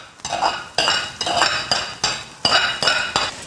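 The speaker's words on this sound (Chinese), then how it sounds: "鸡肉全部炒散，下入姜葱蒜，炒香后下入泡豇豆" Chicken stir-fried in a wok with ginger, scallion, garlic and pickled cowpeas: a metal spatula scrapes and clinks against the pan in repeated bright strokes, close and steady, with no voices.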